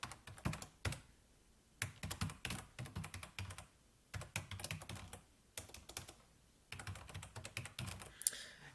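Someone types a notebook instance name on a computer keyboard in irregular bursts of quick keystrokes, close and clear, with brief pauses between groups and no talking.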